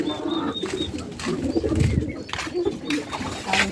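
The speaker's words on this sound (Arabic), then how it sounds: "تعالوا نشوف الحمام" Pigeons coo softly and repeatedly inside their coop, low burbling calls overlapping at close range amid faint rustling and background noise.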